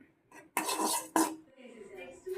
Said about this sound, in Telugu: మనం ముందుగా ప్రిపేర్ చేసుకున్న లివర్స్ ముక్కలను వేసి కలుపుతూ ఉండాలి